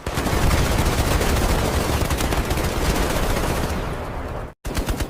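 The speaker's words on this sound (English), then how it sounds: "The machine gun had changed warfare forever." Sustained World War One machine gun fire rattles in a loud, continuous burst for about four seconds, breaks off abruptly into a short silence, then a final burst resumes.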